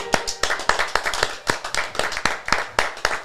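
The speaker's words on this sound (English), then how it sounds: "Ladies and gentlemen, can we get a round of applause?" A small group claps in rhythm on a podcast set, a sharp, evenly spaced burst of hand claps repeating about every quarter second, close and fairly loud, with no talk over it.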